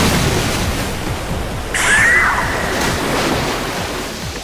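Animated magical water serpent strikes with a steady surging rush like crashing waves, swelling briefly in the middle with a bright whooshing sweep.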